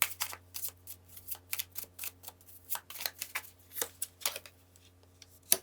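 Tarot cards being drawn and shuffled, a string of soft, quick flicks and papery snaps in an uneven rhythm, close and fairly quiet over a low steady hum.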